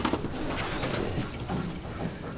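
Racing pigeons cooing at the coop: soft, low, repeated coos close by amid steady background hiss and rustle, with no talking.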